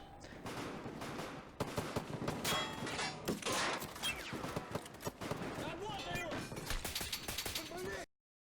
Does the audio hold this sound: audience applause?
no